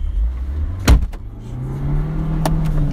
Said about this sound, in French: je crois qu'on a fait un démarrage embrayage parce qu'ils ont pas patiné